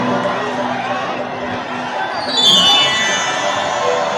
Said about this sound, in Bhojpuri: ताली बजाकर अभिनंदन